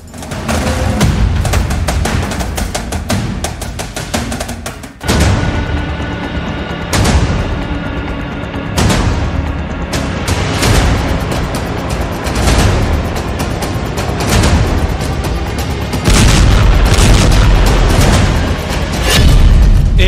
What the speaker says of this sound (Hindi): एक मिसाइल धमाका